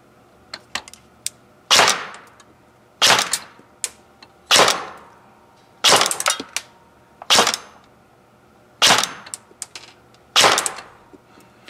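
A KWA KM4 SR10 airsoft AEG rifle fires in short bursts and single shots, each a loud mechanical clatter of gearbox cycling followed by a pause, about eight separate volleys heard up close.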